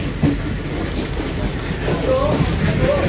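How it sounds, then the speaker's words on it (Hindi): A Bangriposi–Bhubaneswar Intercity Superfast Express train rolls along with a steady low rumble and faint rhythmic clatter heard from inside the carriage, fairly loud and continuous, with a brief high squeal. "finally अपना ट्रेन इज ऑन एंड अभी हम लोग सीट पर कर चुके हैं अपना and we are on the way"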